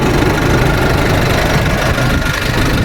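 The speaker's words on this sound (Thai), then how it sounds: "รถเครื่องยนต์เดินนิ่งๆเลยนะครับ" A loud, steady Isuzu cargo-box truck engine idling close by, a continuous low rumble with a faint knocking texture and no voices.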